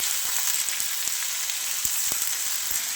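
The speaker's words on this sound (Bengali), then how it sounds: "তারপর আমি আদা রসুনের পেস্ট দিয়ে দিলাম প্রয়োজন অনুপাতে, সেটাও দিয়ে দিলাম" Ginger garlic paste fries with spices in a hot pan for a lentil kofta curry, giving a steady bright sizzle and crackle with occasional soft pops, with no voices.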